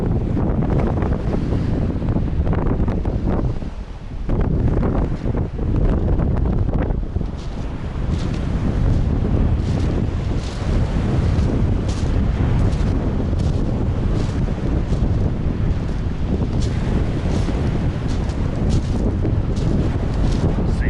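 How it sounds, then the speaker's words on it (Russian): Strong fresh May wind buffets the microphone in a loud, continuous roar with gusty surges, briefly dropping around four and seven seconds before rising again; no voices. "Свежий ветер."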